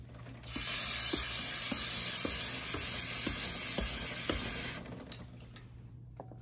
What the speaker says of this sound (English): Step one, just spray the chain.